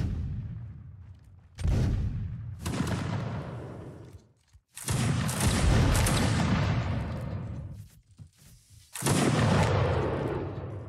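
Musket line volleys in an online battle game: several loud broadband blasts of massed gunfire, each a ragged crackle of many shots that decays over a second or two, separated by brief near-silent gaps.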